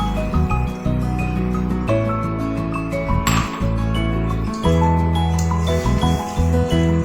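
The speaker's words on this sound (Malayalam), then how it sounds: "ചിക്കൻ ഇത് നമുക്ക് ചിക്കൻ ചേർത്ത് ഇളക്കിയെടുക്കാം." A spoon stirs chicken in a metal pot while cooking chicken biryani with curry leaves and coriander, giving close, repeated metallic clinks and scrapes in an uneven rhythm.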